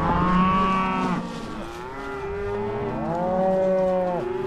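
Cattle moo repeatedly while cow-calf pairs are sorted on a remote Montana cattle drive: loud, close, drawn-out bellows that overlap and rise and fall in pitch, with no talking.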